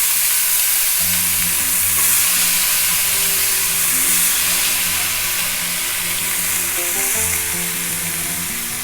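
Mustard seeds, curry leaves and cut potatoes fry in hot oil in a home kitchen, making a loud, continuous close sizzle with a low steady hum underneath.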